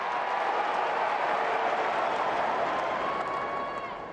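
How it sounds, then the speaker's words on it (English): A crowd at a US Open tennis match applauds in a dense, steady roar of clapping that tapers slightly at the end. "Paul hearing it from this American crowd."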